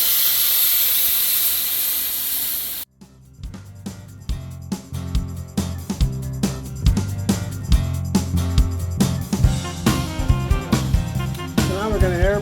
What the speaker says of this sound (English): So now we're going to airbrush the nose and the mouth a bit.